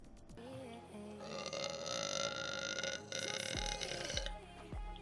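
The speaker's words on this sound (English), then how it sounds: "I'm sorry I burped." Burp from a woman on a livestream, a low, rumbling eructation near the microphone amid steady background music and streaming noise.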